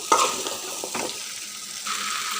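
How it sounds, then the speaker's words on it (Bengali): Taro stolons stirred with spices in a frying pan, with a loud close sizzle and brief scraping strokes of the spoon against the pan over a couple of seconds. "নেড়েচেড়ে একদম মশলার সঙ্গে মিক্স করে নেব।"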